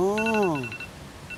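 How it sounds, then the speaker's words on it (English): A phone timer alarm rings out as a short falling electronic ringtone melody in its opening half, followed by faint intermittent beeping tones with no talk over it. "That was the timer to call my girl"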